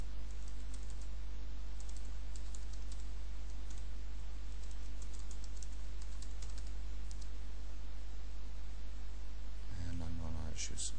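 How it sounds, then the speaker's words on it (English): Fingers type a password on a computer keyboard, a steady patter of soft key clicks over a constant low hum, ending with a brief voice. "I'm gonna type in a password."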